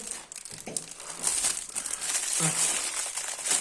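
Plastic packaging crinkles and rustles close by in several bursts, with sharp crackly handling noises and no talking, as a factory bag holding an AliExpress cable-stripping tool is handled.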